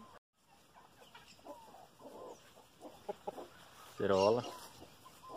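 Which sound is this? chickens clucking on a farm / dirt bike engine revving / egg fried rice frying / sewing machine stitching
chickens clucking on a farm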